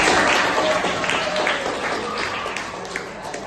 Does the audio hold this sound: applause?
yes